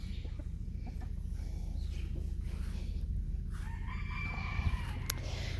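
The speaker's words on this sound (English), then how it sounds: "He is one handsome rooster." A rooster on a farm in summer crows and clucks faintly over a steady low background hum, with no talk during the clip.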